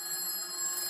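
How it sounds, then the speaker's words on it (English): An old telephone bell rings steadily in a continuous, bright metallic trill, close and fairly loud, with no talking over it. "That's the Examiner phone."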